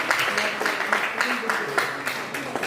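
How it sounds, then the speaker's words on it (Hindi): A seminar audience in Ambala claps together indoors, a moderately loud and fairly rhythmic patter of hands sustained throughout. "प्लीज तालियों में कमी ना रहे प्लीज।"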